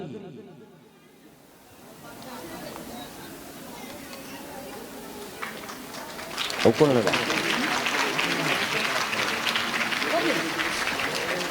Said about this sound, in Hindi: जोरदार तालियां हमारे इन संतों के लिए